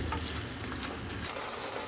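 Tomatoes sautéing with salt in a pan, a dense, even frying hiss that fills the short moment without distinct stirring knocks or voices.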